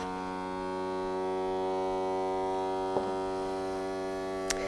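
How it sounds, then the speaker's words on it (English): A Magic Vac vacuum sealer pumps air out of a wine bottle stopper, a steady close electric motor hum holding one pitch throughout, with two tiny clicks near the end. "It does take a few seconds to get all the air vacuumed out of there."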